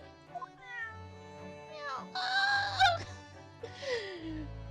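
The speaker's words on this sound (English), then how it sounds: "Ah, Sherlock, just cuddle the cat and you'll feel fine." A cat meows several times in The Great Ace Attorney Chronicles, with bright, wavering cries of varied length rising and falling over a soft game backdrop.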